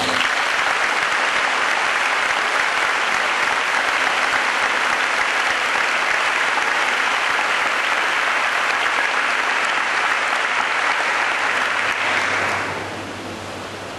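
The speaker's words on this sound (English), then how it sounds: "Indeed, they deserve a big round of applause." Long, loud, steady audience applause at an official secondary school opening ceremony, a dense wash of clapping from a large crowd that holds evenly before dropping off near the end.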